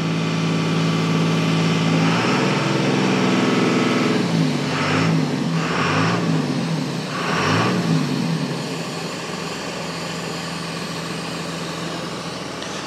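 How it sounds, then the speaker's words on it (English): A 24-valve Cummins diesel truck engine with a 5-speed idles steadily and close, with three short revs rising and falling in the middle before it settles back to a low rumble. "this thing just sounds so good. This truck sounds so nice."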